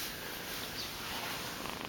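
A cat purring softly and steadily, close by in a quiet indoor or holiday setting, with no talking.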